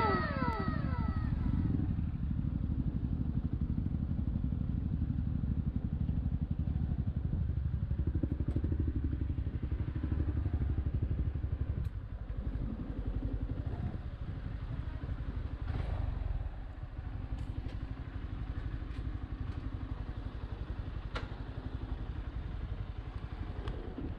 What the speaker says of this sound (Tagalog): Makina, kanina pa ungol ng ungol.